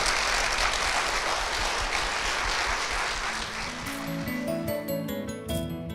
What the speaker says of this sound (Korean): 이 가정을 위해서 힘찬 축복의 박수 부탁드리겠습니다